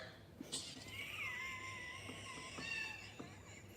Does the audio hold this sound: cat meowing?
yes